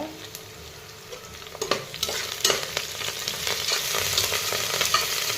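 Ginger, garlic, mint and coriander sauté in a pan for chicken biryani, with sharp scraping stirs cutting through a sizzle that grows louder and denser toward the end.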